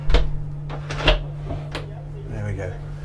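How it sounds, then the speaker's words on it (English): An interior door in the crew area of a 2019 Azimut 77S motor yacht is pushed shut with a few soft knocks and thuds, over a low steady engine or generator hum, with talk nearby. "Let's close that door back over."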